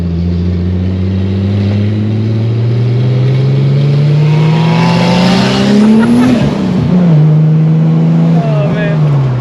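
A turbocharged VR6 Volkswagen Corrado climbs a hill-climb course, heard from inside the car: a loud, close engine note rises steadily through the gears, peaks with a hard rev and tire squeal around the middle, then settles back into strong acceleration.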